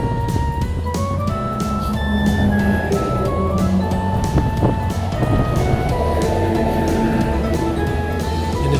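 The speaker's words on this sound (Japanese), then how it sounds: "風がねきついですね。 結構ね風の音してますでしょ。" Strong crosswind buffets the microphone on a city ride through Kobe, a continuous roaring rush with a few tonal whines and clicks mixed in, no talking.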